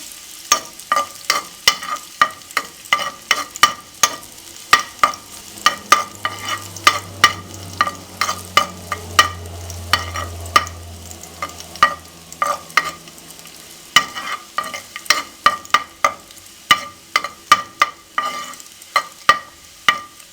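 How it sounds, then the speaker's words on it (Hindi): Garlic sizzles in oil in a pan while a utensil scrapes and taps against it in quick, steady rhythm over about twenty seconds, with a brief low hum partway through, close and without talk. "अब इसको हम अच्छे से भून लेंगे।"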